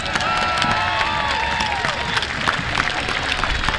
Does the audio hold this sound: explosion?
no